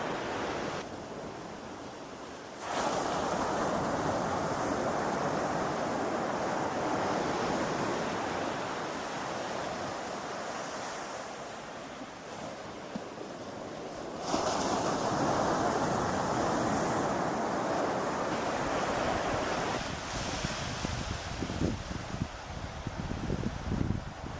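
Ocean surf at low tide along the rocky Acadia National Park coast, a steady broad wash of breaking waves with swells that rise and fall and some wind noise on the microphone, with no voices.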